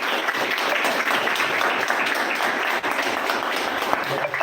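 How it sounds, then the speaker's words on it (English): Applause from students at an SSB orientation debate session, a dense steady wash of clapping filling the whole stretch with mixed voices underneath. "Huge round of applause for that, please"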